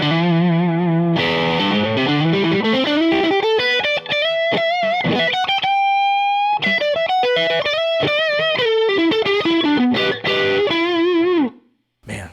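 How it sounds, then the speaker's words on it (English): Fender Player Plus Stratocaster HSS electric guitar through overdrive, playing a loud, sustained distorted riff with bending, sliding notes and a held high note, continuous and close with no talk. "the pickups really come alive in the overdrive"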